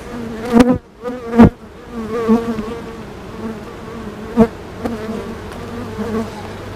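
Honeybees buzz around an open hive during an inspection, a close, wavering drone with several louder passes as individual bees fly near, continuing steadily throughout.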